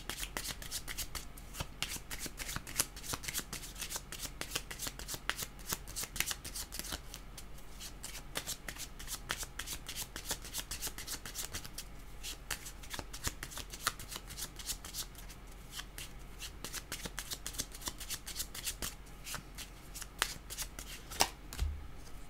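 A deck of cards is shuffled continuously for a tarot-style card reading, a dense run of crisp riffling flicks and papery snaps close by, steady throughout with no talking.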